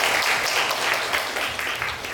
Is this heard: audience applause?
yes